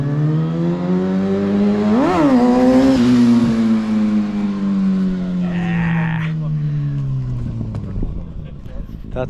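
A motorcycle engine revs hard and steady during a wheelie attempt outdoors amid Norwegian scenery, pitch surging sharply near the start then holding a loud, close drone that slowly drops; people talk over it.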